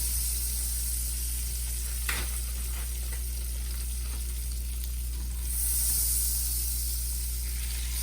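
About three tablespoons of butter sizzle in a pan as the base for a roux for elk roast gravy, a steady close hiss and crackle with a brief stir scrape and a swell of sizzle near the end.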